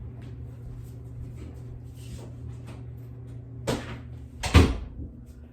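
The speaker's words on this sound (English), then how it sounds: "I need to go shut that door to the laundry room" A laundry room door thumps shut close by, one sharp knock and then a heavier bang a moment later, over a low steady hum from a dryer loaded with throw rugs.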